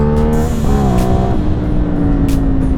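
A CFMOTO 450 SR sport motorcycle accelerating on twisty back roads, its engine note climbing through gears, loud and steady with wind noise.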